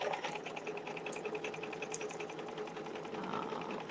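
A sewing machine stitching embroidered blooms runs steadily nearby with a fast, even mechanical whir and light rapid ticking, a couple of brief clicks standing out, heard alone without talk.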